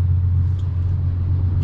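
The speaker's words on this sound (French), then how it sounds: "il y a le bus qui part à Castellane" City bus pulling away in Marseille toward Castellane, a steady low engine rumble close by that holds level throughout with no talk over it.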